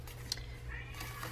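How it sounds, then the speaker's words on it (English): A domestic cat meowing faintly from another room indoors, a short muffled call behind a steady low hum. "I don't know if you can hear my cat meowing in the other room."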